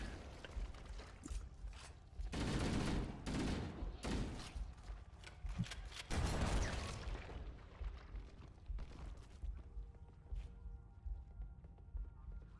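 Shooting in the first-person shooter Halo: Combat Evolved, heard as several separate clusters of sharp, crackling shots. The bursts are fairly loud and spaced a few seconds apart, with softer game ambience between them.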